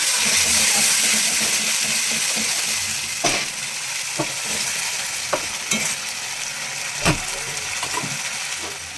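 Spices sizzle and fry hard in a pan right after water is poured in, a loud steady hiss with a few sharp clinks of a utensil against the pan.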